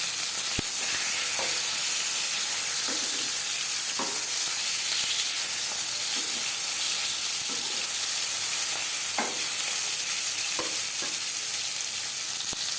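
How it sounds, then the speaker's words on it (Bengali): Fish fries in hot oil for a Bengali fish curry, giving a continuous loud sizzle with occasional sharp pops and stirring or turning clicks, no talking. "মাছ একটা সাইড ভাজা হয়ে গেলে অপর সাইডটা উল্টে দেবো।"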